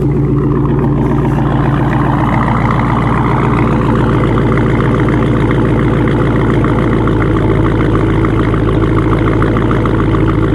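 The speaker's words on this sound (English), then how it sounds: "Let me get a natural rumble first." A 2018 Dodge Challenger Hellcat Hurst Heritage V8 idles steadily up close, a loud, continuous low rumble with a fast, even pulsing throb that holds throughout.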